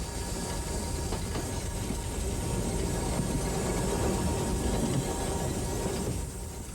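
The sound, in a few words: narrow-gauge steam train running to Oschatz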